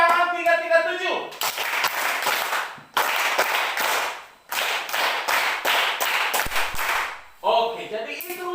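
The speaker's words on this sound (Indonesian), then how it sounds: "tepuk tangan semua" A classroom of people claps hands in two loud, sustained bursts of applause, each a few seconds long, with a teacher's voice speaking briefly before, between and after the bursts.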